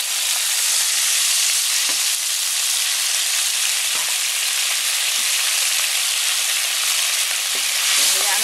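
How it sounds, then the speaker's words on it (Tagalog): Water simmers in a pan while cooking asado-style tilapia fish steak, giving a steady, close hiss of bubbling and sizzling that runs evenly throughout with no voices. "Hayaan natin kumulo."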